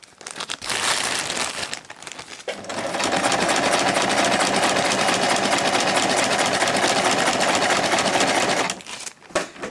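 Sewing machine stitching seams on kite fabric runs in short bursts, then steadily for several seconds close up and loud, with a faint crinkle of material handled between runs.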